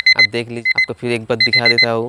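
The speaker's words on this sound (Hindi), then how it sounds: "ये है ये अलार्म का घड़ी है। अब दिखा क्योंकि आवाज़ सुना रहा हूँ क्योंकि अलार्म बजने वाला है।" A ringing alarm clock sounds in short repeated bursts, loud and close, while someone talks over it.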